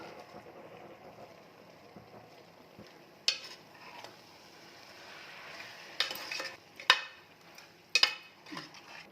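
Goat tripe frying in a pan with turmeric, coriander and mint gives a soft, steady sizzle, with a few sharp clinks of a utensil against the pan.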